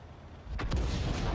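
A single deep artillery boom in the tank video game World of Tanks, featuring the Object 704, thuds out, followed by a low rumbling tail.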